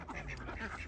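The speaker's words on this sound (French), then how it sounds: "Les canards." Ducks quack in a brief, faint burst outdoors, nasal calls overlapping against a soft background.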